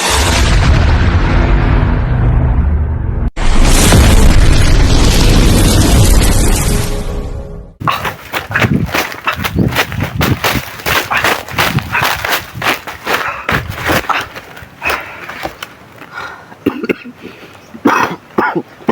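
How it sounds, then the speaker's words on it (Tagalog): Loud, close bursts of gunfire and blasts in an armed clash, dense booming roars at first, then a long stretch of rapid, irregular cracking shots with voices shouting underneath. "Grabe yung putok mga tol."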